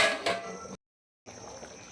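A metal lid clanks down onto a pan of dhaba-style fish curry cooking with goda masala, giving a short close clatter, then a brief pause before faint kitchen sounds resume.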